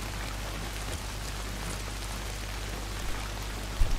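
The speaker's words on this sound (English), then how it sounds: "Not if it's pissing down rain." Steady rain pours down in the video game Days Gone, a continuous even hiss of raindrops on surfaces with a few soft knocks near the end and no talking.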